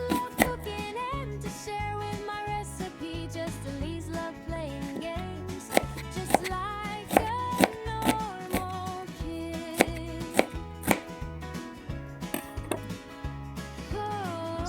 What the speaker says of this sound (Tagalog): hiwain na natin yung spring onion and yung ating shallots